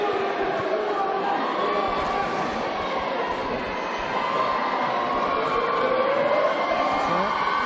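Keele basketball fans at a varsity game cheering and roaring in a continuous loud crowd wash, with announcer-style talk audible within the noise.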